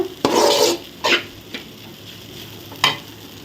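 Poha upma stirred in a pan over low heat, with a few distinct scraping strokes of the spoon against the pan over a soft sizzle, the first stroke longest and the rest short and spaced apart.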